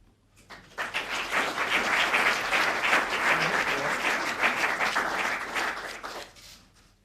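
Audience applause at a 2016 AIEF graduation ceremony, a steady crowd clapping that swells in after a quiet start, holds loud and dense for several seconds, then tapers off near the end.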